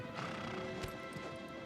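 Horse hooves clop in Shadow of the Colossus, with a few dull thuds from a galloping mount under loud, constant game background noise.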